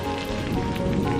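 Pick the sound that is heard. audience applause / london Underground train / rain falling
rain falling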